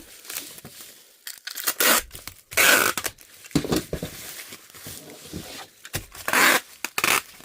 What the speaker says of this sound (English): Grab my tape gun.